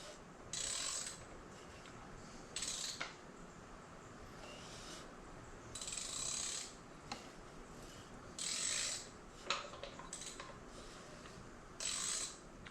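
A 1965 Honda CB450 K0 Black Bomber engine being cranked over by hand during a teardown, giving repeated ratcheting, clicking mechanical bursts in a steady rhythm, close and fairly quiet.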